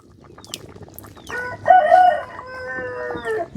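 A rooster crows loudly nearby in a long drawn-out call, with faint bird sounds and clucking in the background.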